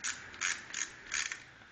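A hand ratchet tightens the clutch cover bolts on a Yamaha R1 motorcycle, producing four close, bright bursts of rapid clicking at a steady rhythm with brief pauses between strokes, and no voices.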